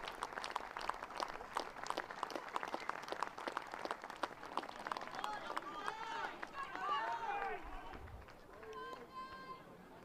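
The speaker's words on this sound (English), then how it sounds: "these players quite rightly lining up and applauding the work and the commitment shown by Stuart Seaton" Continuous crowd applause and clapping before a rugby match, Ayrshire Bulls v Southern Knights, fill the first half, then fade as voices talk and a whistle sounds over the crowd.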